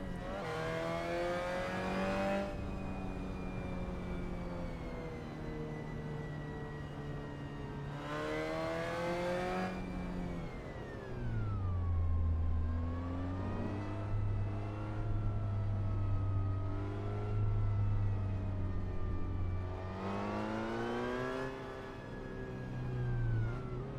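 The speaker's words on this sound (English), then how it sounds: "And the Formula Ford's always a kick." A wingless Formula Ford race car laps Anglesey Circuit, its engine whining up through the gears in repeated rising sweeps, dropping low on a lift around the midpoint, then climbing again, loud and close throughout.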